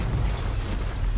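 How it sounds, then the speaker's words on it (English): A collapsing foundry explodes in Baldur's Gate III, a brief heavy low-end boom and rumble filling the moment with no voices over it. "Cool explosions."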